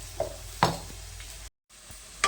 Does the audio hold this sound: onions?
yes